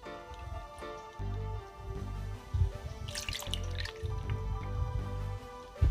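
Juice drips and squishes out as soaked sorrel and ginger are squeezed by hand, with soft irregular wet splashes and patters over a low background hum.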